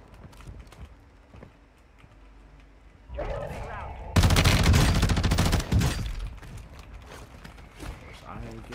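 Gunfire from an opposing team in a video game: a loud, rapid automatic burst lasting nearly two seconds follows quieter mechanical clatter, then trails into scattered softer shots.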